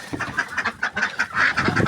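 A farmyard flock of ducks and geese calls close by, overlapping honks and quacks pulsing in rapid irregular bursts throughout.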